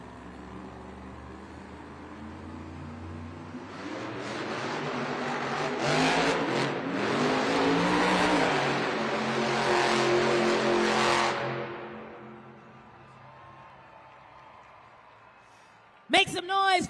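Velociraptor monster truck engine roaring in an arena at Monster Jam in Salt Lake City, building from a low rumble to a loud sustained rev before dropping away, with an announcer talking over it.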